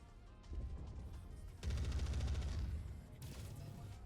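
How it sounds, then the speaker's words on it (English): Missiles fired in a MechWarrior 5: Mercenaries battle, heard as a loud rapid stuttering volley of launches and impacts that swells, peaks in a dense burst, then trails off into a second crackling salvo. "Missiles, missiles, missiles."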